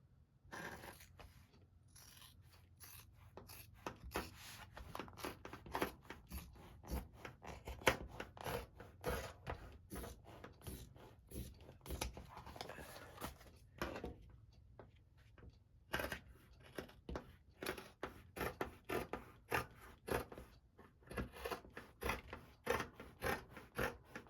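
Scissors trim close around the stitched edges of sewn bag fabric, with a long run of crisp, repeated snips and soft scraping. The cutting sounds near and quiet, with short pauses between bursts and no talking.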